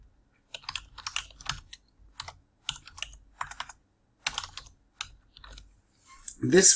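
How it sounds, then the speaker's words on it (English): Bursts of quick keystrokes on a computer keyboard as an email address is typed, close and clear, with short pauses between runs and a louder thump at the very end. "again we type in our email address"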